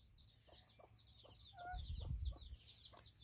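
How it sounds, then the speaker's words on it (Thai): Hens raised on a small Thai family farm alongside ducks cluck softly in a scattered, repeated rhythm, faint and somewhat distant over a low outdoor rumble. "อันนั้นก็จะเป็น ไก่นะคะไก่ที่คุณแม่เลี้ยงไว้เนาะ"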